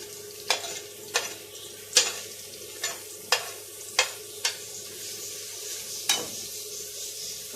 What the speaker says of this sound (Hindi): इस प्याज को सिर्फ इतना पकाना है कि इसका कलर चेंज हो